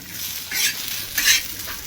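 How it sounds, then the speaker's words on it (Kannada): Coconut roasting in a pan in a home kitchen, with soft crackling sizzle and two brighter bursts of stirring scrapes, close and steady, no talk. "ನಾನಿಲ್ಲಿ ಇದು ಕೊಬ್ಬರಿ ಹುರಿಯಾಕತ್ತೀನಿ"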